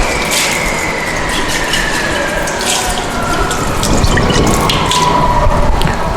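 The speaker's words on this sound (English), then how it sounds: "you have to wash your conical flask thoroughly with water" Tap water runs and splashes while a conical flask is rinsed during a laboratory test for total hardness of water by the EDTA method, a steady close wash with faint dripping tones throughout.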